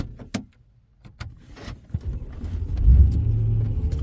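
A BMW E92 M3 starting up: a few sharp clicks and clunks at first, then the engine cranks and catches, settling into a loud, low, steady rumble.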